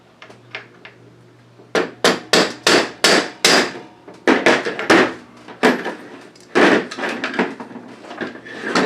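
A hammer strikes a punch while a Hatsan Blitz air rifle is taken apart, giving a series of sharp metallic knocks, a few light taps and then runs of hard, evenly spaced blows, loud and close.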